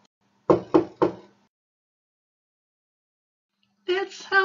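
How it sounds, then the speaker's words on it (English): Three sharp knocks on a window glass in a quiet room, evenly spaced and close, followed by silence and then a voice beginning to speak. "there was a knock on the window"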